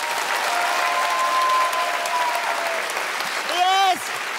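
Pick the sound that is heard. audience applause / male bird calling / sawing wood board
audience applause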